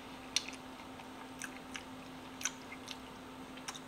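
Stuffed potatoes seasoned with pink Himalayan salt, pepper, onion powder and garlic being eaten, with soft, close chewing and a few brief crunchy bites spaced irregularly against a quiet background.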